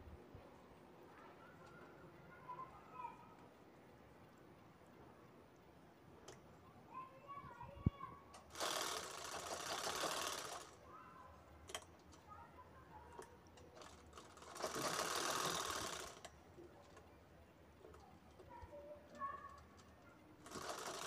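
Sewing machine stitching a second fabric piece onto a zipper for a handmade bag, two clear bursts of steady whirring stitches separated by quiet pauses with light handling clicks.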